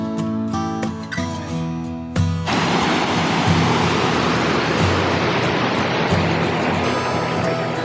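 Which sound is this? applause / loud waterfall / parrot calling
loud waterfall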